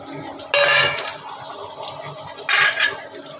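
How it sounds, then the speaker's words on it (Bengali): Potatoes and boiled eggs tipped into a simmering pot of well-reduced curry, giving two loud bursts of clattering pot and utensil clinks with quieter stirring scrapes between them, close by, with no talking. "এখন আমি আলু আর ডিমগুলো এখানে দিয়ে দিচ্ছি"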